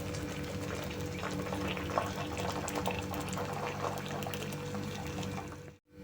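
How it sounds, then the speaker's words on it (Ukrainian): Hot water poured into glass jars packed with zucchini pieces in tomato sauce, a steady continuous pouring and gurgling that stays level before cutting off abruptly near the end. "І по плечики заливаю гарячою водою."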